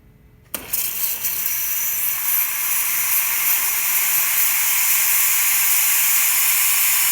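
After a brief quiet moment a serviced Breville espresso machine's steam wand bursts on with a sharp click, then hisses loudly and steadily for several seconds.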